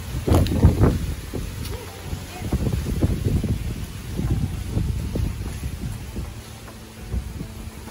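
Strong gusts buffet the microphone in low, rumbling surges that rise and fall, with a rustling hiss in between.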